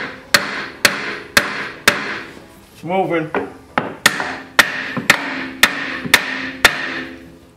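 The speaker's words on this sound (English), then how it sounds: "I'm gonna use my brass hammer so we don't mushroom it" A brass hammer strikes metal in a steady rhythm of sharp, ringing blows, a dozen or so, with a short spoken word partway through.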